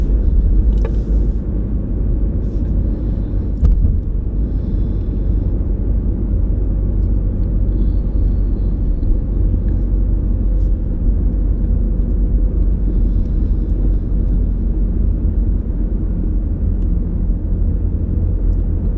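Steady low engine rumble and road noise from a car driven by a learner on a driving lesson, running through the gears with the clutch, a continuous drone with no clear shifts audible.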